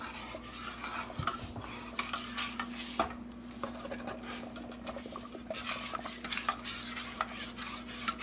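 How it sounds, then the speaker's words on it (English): Spoon stirring Quaker grits in water inside a pot, a steady scraping rub with small clinks against the metal, fairly close and continuous, no talking. "Grits try to stick really easy, so you want to make sure that you do get it stirring."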